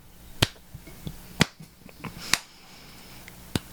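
A few sharp, separate hand claps ring out close by in an otherwise quiet room, spaced irregularly about a second apart, with faint softer taps between them.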